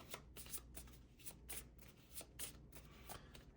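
A deck of cards for the Harry Potter Hogwarts Battle board game is shuffled close by in a quiet room, producing a series of soft riffling bursts at a steady pace with no talking.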